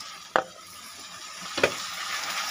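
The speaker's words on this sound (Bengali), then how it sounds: "এবার গোবিন্দভোগের চালগুলো দিয়ে দিচ্ছি" Gobindobhog rice tipped into melted butter in a pan with fried cashews and raisins, stirred under a steady soft sizzle. Two distinct scraping knocks of the spoon stand out; no voice is heard.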